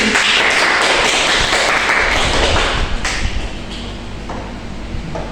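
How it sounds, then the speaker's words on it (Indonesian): Students applaud together in a classroom, a dense burst of many hand claps filling the first three seconds before thinning out and fading, with no voices over it. "Kita tepuk tangan untuk diri kita sendiri."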